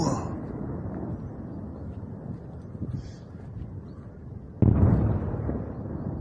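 Missile strikes explode over Tehran, heard as distant muffled booms under a rumbling background, with one heavier blast landing abruptly near the end.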